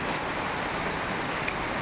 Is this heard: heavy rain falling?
yes